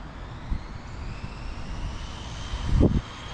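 An Arrma RC car with a Castle Cobra 8 combo running at full throttle: a steady high, distant motor whine over rushing wind noise, with a louder rumbling swell near the end.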